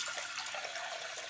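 A steady, close wash of running water sloshing and splashing without a break as lentils are rinsed.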